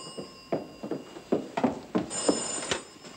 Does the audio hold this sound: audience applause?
no